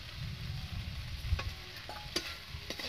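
A spoon scrapes and stirs fried masala in a pan while it sizzles softly underneath, with a few sharp clinks and scrapes standing out against the quiet, close-up frying.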